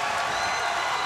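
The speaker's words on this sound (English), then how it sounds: "Our live crowd is going nuts." A live wrestling crowd at a TNA tag team match cheering and applauding, a dense roar of clapping and voices filling the moment steadily.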